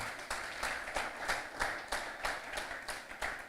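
An audience claps together in a slow, even rhythm, each beat a distinct communal clap repeating at regular intervals, faint and somewhat distant, with no talking over it.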